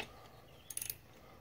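A socket wrench ratchets briefly on a vintage DR trimmer mower, a quick burst of four or five sharp metallic clicks, close and fairly quiet, with no one talking.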